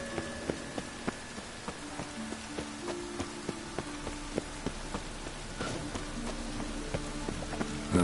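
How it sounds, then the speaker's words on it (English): Steady rain falls on a surface, forming a constant hiss with scattered sharp drips and taps, together with a faint tonal background. "Looks like rain."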